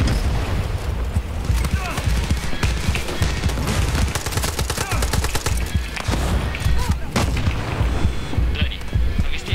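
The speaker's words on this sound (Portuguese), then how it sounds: "tem um tanque me dando tiro e não dá." Dense bursts of tank gunfire and heavy booms from a Far Cry 6 battle, continuous and loud, with scattered chatter mixed in.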